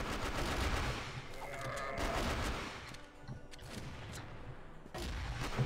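AK-47-K Golden Bull rifle fire in CF West, dense rattling bursts of automatic gunfire that come in waves, fairly faint, with other game sounds around them.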